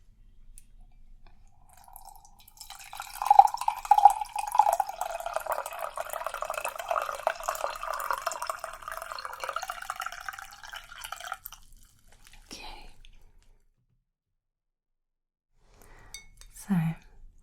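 Freshly boiled water pours into a cup over an Earl Grey tea bag in a steady, close trickle lasting several seconds, then stops, followed by a few soft clinks and small handling sounds.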